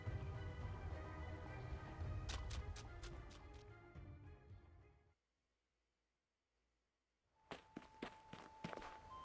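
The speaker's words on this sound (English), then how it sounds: "Please listen carefully to my footsteps and find us as soon as possible." Footsteps in the video game Reverse 1999, a steady run of steps under game ambience that stops for a few seconds of near silence, then resumes with sharper, distinct ticking thuds.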